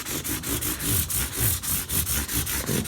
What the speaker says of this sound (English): get the rest of my black marks off here with the 600 grit